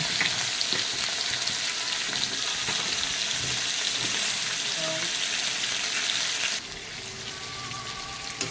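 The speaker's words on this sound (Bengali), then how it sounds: "এর ভিতরে আমি বেগুন, লাল আলু, পেঁপে আমি সব দিয়ে দেবো, একসঙ্গে দিয়ে এবার ভেজে নেব।" Eggplant, red potato and papaya frying together in a pan, giving a dense continuous sizzle up close that drops slightly in level near the end, with no talking.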